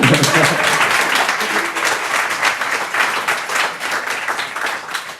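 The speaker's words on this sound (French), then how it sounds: "Mais on peut l'applaudir en fait." An audience at a prize-giving ceremony for a competition in Boulogne-Billancourt applauds a winner, a steady, dense wash of clapping that stays loud throughout with only slight swells.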